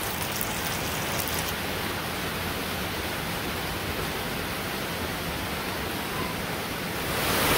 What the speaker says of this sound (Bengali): এখন দেখুন কত জোরে বৃষ্টি নামছে